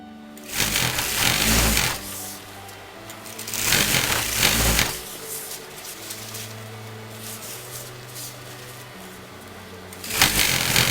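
A domestic sewing machine stitches around the edge of fabric for an Anarkali dress, running in three loud sustained bursts with quieter pauses between them, and no talking.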